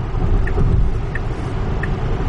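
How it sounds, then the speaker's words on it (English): A Tesla driving itself along a freeway exit ramp on Autopilot, with steady loud road and tire rumble inside the cabin and a few faint soft chimes. "the car would take the exit automatically"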